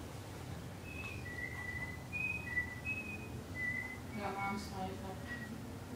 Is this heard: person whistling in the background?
yes